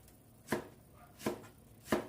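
Onions are chopped on a cutting board before caramelizing. Three spaced, firm knife strikes land close by against a quiet background, with no talking.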